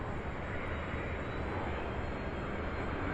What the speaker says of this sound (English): This is a 767 coming in out of San Antonio, Texas, UPS flight 789.